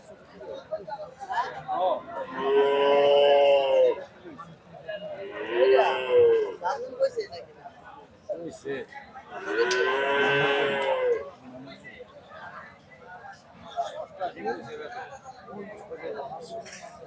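Several long, loud moos from cattle at a busy cattle market in Bangladesh, including a black crossbred cow, three main calls spaced a few seconds apart over a low murmur of distant crowd chatter.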